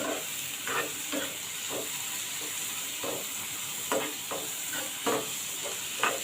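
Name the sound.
chopped tomatoes sautéing in a pan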